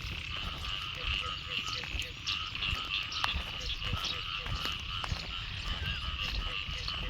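Frogs croak loudly in a dense, continuous chorus after a night of rain near rice fields, many overlapping calls repeating steadily throughout under an overcast sky.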